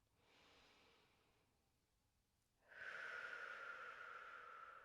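Deep breathing during a yoga session: a soft exhale, a brief pause, then a longer, louder breath with a breathy hiss, close and alone with no talk.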